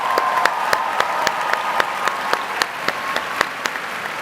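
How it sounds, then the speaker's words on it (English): Audience applause at the Regeneron ISEF 2023 opening ceremony, a large hall crowd clapping steadily for the affiliated science fairs, dense and sustained with sharp individual claps standing out throughout. "Let's give them a big round of applause"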